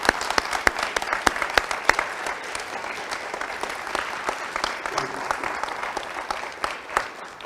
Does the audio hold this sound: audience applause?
yes